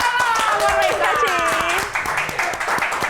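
A studio audience claps for a singer on a talk show, a short burst of dense clapping while people talk and laugh over it.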